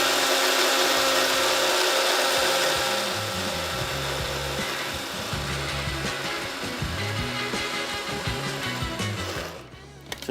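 A spice grinder pulverises a whole masala blend into powder for achari fish masala, a steady loud churning motor drone with rattling whole spices that runs continuously before cutting off near the end.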